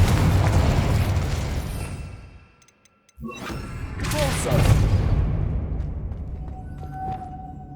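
Confringo spell cast in Hogwarts Legacy at a witch's tomb, a loud fiery burst swelling up after a brief silence, with crackling roar that fades out under game ambience.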